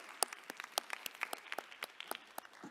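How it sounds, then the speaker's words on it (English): An audience claps for a conference panel at the close of a session, a modest scattered round of applause heard from a distance, sharp individual claps spread across the room. "We can join them and give them a round of applause."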